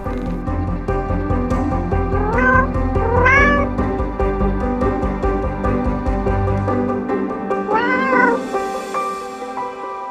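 Several cats in a St. Petersburg cat cafe that is home to about twenty cats meow repeatedly, with rising, drawn-out calls over a steady hum of room noise and music.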